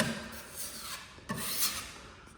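Wood filler being sanded with 120 grit sandpaper during a renovation, heard as a few close, quiet rasping rubs in two short bursts, with no talk.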